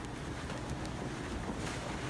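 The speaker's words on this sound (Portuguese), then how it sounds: "Esse vídeo aqui mostra, Mauro, o exato momento, olha só, da ventania, o vendaval que deu lá num posto de gasolina em Maribondo." A strong windstorm at a gas station in Maribondo, roaring gusts buffeting the microphone with a constant heavy rumble and hiss, no voices over it.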